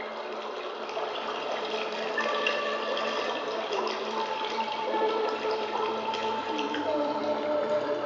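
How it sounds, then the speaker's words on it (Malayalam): A flowing stream rushes steadily and evenly, with a close, continuous wash of running water and no pauses. "ആ ഒഴുകിക്കൊണ്ടിരിക്കുന്ന അരുവിയുടെ ശബ്ദം നിങ്ങളൊന്ന് ശ്രദ്ധിക്കൂ."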